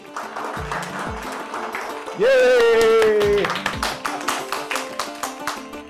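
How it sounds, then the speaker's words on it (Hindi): Audience claps for a young sign-language presenter at a programme event, scattered rhythmic clapping mixed with a loud sustained voice or tone partway through and an announcer speaking over it. "जोरदार तालियां आशी के लिए"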